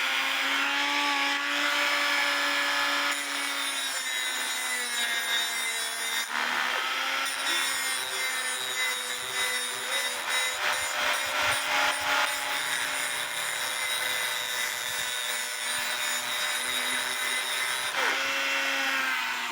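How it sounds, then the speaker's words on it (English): A drill turns a cuckoo clock pivot during a repair with simple tools. It gives off a continuous whirring, rubbing grind with a shifting pitch that runs the whole time at close range. No one speaks. "it's better if you can put it in a drill to rotate it."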